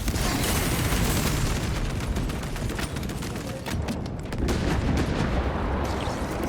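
In Space Marine 2, an auto bolt rifle fires in dense, rapid bursts of heavy booming shots, loud and continuous, layered with other battle noise throughout.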